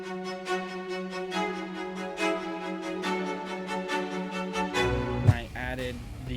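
Strings play a lead-in to a chorus in a music production, sustained harmonic notes moving steadily and building before a brief accent and shift near the end, with no talking.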